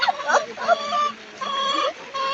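A rooster and hens at a small local chicken farm clucking nearby in short repeated calls, close and fairly clear against quiet background.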